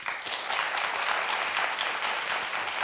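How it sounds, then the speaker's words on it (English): A studio audience at a talk show claps for a vote, producing a full, steady round of applause from many hands that rises quickly and holds throughout. "If you think that they should stay friends, clap your hands."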